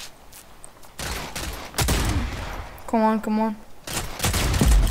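Bursts of gunfire in the shooter video game Rogue Company, several loud clustered volleys separated by short gaps, with a brief spoken exclamation and a tonal game sound in between.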